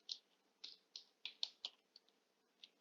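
Light, sparse taps on a computer keyboard, about a dozen quiet clicks in an uneven rhythm, close and isolated with no talking.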